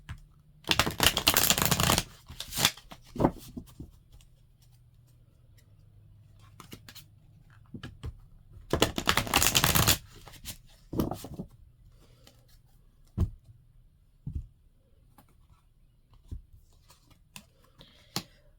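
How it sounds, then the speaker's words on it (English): Two bursts of rapid riffle-shuffling of tarot cards, a second or two each, followed by scattered soft taps and handling sounds in a quiet room. "I'm going to go ahead and just shuffle really quickly"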